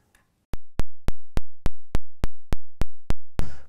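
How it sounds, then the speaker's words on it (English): Steady click track from the clock outputs of a SOMA Pulsar 23 drum machine, sent to the mixer: about ten sharp, evenly spaced clicks at a brisk tempo, loud and close, ending in a brief burst of noise. "we're going to use the clock outputs to the mix in to give us a little click track"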